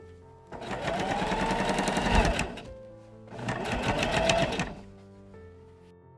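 A sewing machine stitches the darts on the front piece of a Victorian bodice, running in two sustained bursts of rapid needle clatter separated by a short pause, close and clear with no talk.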